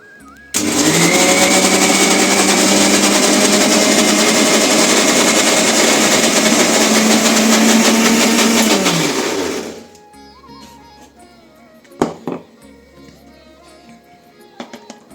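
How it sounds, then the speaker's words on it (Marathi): A mixer grinder churning butter roars loudly at full speed for about nine seconds, then cuts out, leaving a few clicks and knocks in a quiet room. "मिक्सरच्या भांड्यामध्ये फक्त हे लोणीच फिरवून साईज फिरवून घ्यायची"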